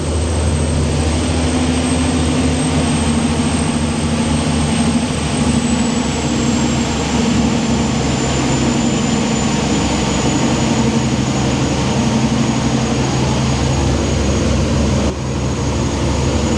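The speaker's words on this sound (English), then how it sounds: "If I aim the mic towards the exhaust so you can hear those engines." Engine exhaust from a Safehaven Marine Voyager T2000 yacht at sea on a rough-water trial, heard as a loud, steady, deep droning roar with a faint high whine above it, continuous throughout with no talk.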